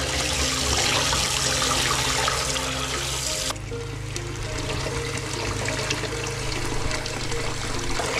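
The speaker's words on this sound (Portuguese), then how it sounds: "Vou lavar bem em água corrente para tirar toda a sujeirinha que fica grudada aqui." Running tap water washing jabuticaba fruit, a loud, continuous splashing stream close by that shifts in tone partway through as the fruit is moved under the flow, with no talking.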